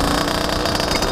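A Fantic TZ 125 two-stroke motard engine runs steadily at low revs, a loud, continuous buzzing drone with no pauses and no voices.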